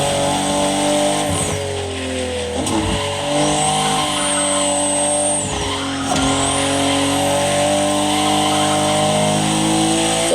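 In The Crew Motorfest, a BMW M4 CSL's engine drones loud and steady at speed, with gear shifts dipping and rising the pitch and a faint tire squeal, no voices.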